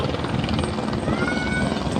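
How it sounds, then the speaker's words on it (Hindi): A helicopter flying toward a helipad at Mana village, its rotor chopping steadily and loudly throughout, close by, with no talking over it. "हेलीकॉप्टर जा रहा है"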